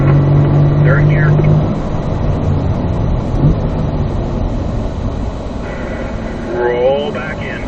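Corvette engine pulling hard in third gear on a race track, a loud, steady roar with rising tonal sweeps under an instructor's spoken coaching.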